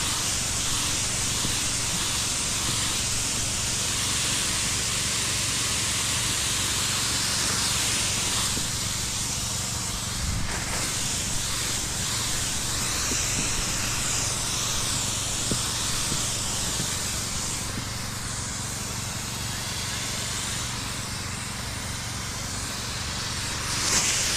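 A continuous, loud hiss of a sprayer spraying for about twenty-four seconds, steady and close with no pauses, set amid flooding from a rising river.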